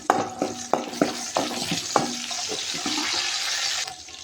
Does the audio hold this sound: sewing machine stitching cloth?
no